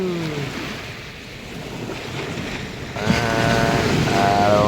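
Sea waves wash near the shore on a winter morning before sunrise, a steady broadband rush with wind buffeting the microphone, swelling louder in the last couple of seconds, with no talking.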